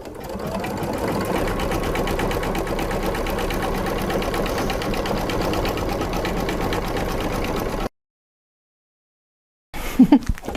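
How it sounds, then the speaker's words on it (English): A Brother Stellaire embroidery machine stitches the outline around a patch with a rapid steady mechanical whir and needle rattle, close and continuous, then a gap of silence and a brief burst of handling noise. "So I finished stitching my patch"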